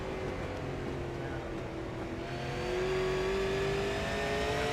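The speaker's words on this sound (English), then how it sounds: "But kind of listen to how the throttle goes." A race car at the Snowball 200 at Five Flags Speedway lets off the throttle and then stabs it again, its engine note droning steadily and rising in pitch toward the end, with a faint voice underneath.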